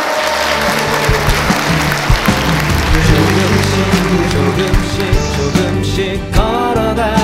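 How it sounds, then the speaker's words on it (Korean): Applause and cheering from a large audience close out a 500-person roundtable town meeting at a national community welfare council convention, with loud upbeat music playing over the clapping throughout. "그러면 큰 박수와 함성으로 토론을 마치도록 하겠습니다"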